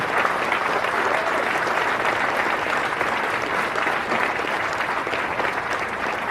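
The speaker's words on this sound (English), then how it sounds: "a round of applause for their dedicated service to corps and country" Loud, continuous applause from a large crowd honoring Marine veterans at a Marine Corps recruit graduation ceremony in San Diego, a dense wash of clapping that holds steady throughout.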